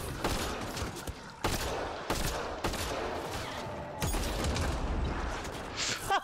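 Bursts of gunfire from the Gears of War: Ultimate Edition video game during a train heist level, with repeated loud volleys and heavy rapid shots crackling close in a dense sequence with no voices.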